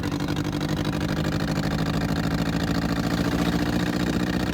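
An abandoned dune buggy's engine runs steadily close by while the buggy is driven off-road, a continuous loud mid-pitched drone with no voices over it.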